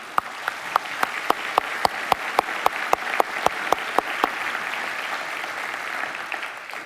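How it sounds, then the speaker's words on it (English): Applause for sponsors at a summit plenary session, with a steady wash of clapping from the audience and a single clapper close by hitting sharp, evenly spaced claps for about four seconds before the crowd's applause carries on alone. "So please, a round of applause for our sponsors."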